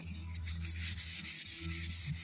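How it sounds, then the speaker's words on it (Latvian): Hand sanding on a Volvo engine hood being prepared for painting, rounded areas worked by hand: steady close rasping strokes in a repeating back-and-forth rhythm, alone without talk. "Te ir ielocījums, tur nevar slīpmašīna. Viss šitās apaļās vietas ar roku."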